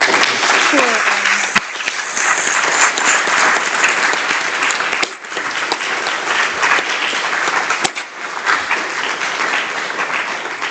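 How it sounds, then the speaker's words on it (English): Sustained, dense audience applause following a lecture, loud and close, continuing steadily for about ten seconds with slight dips in intensity. "So I would like to give one more big applause."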